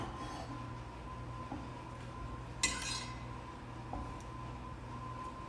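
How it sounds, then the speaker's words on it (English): Fresh collard greens being lifted into a big iron skillet, with a steady background hum, soft rustling, and one sharp metallic clink of the heavy skillet midway. "I just start pulling these collards out of here, and I'm putting them over into this big iron skillet"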